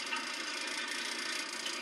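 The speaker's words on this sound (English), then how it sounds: "Okay, I just turned it on. The dryer is working right now." A clothes dryer with an overheating problem runs after a thermostat switch replacement, giving a steady, moderate mechanical whir with faint rattling and ticking that continues evenly, no one speaking.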